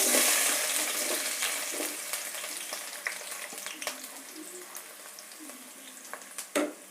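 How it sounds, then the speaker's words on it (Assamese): Onions hiss and sizzle loudly as they drop into hot oil in a kadai for chicken biryani. The frying starts bright and steady, then settles into a softer crackle with a few small pops. "মোৰ তেল গৰম হ'ল, মই এয়া পিঁয়াজ দিছোঁ।"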